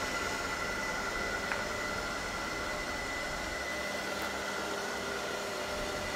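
An ILIFE V5s Pro robot vacuum cleaner runs in brooming mode, giving off a steady, even whirring hiss that holds at a constant level throughout, with no voices.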